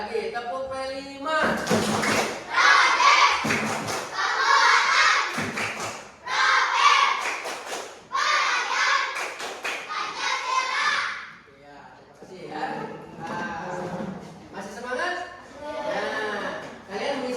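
Pupils in a classroom repeat the 'tepuk P5' clap chant, loud children's voices chanting between bursts of rhythmic clapping, followed by a teacher speaking at the end.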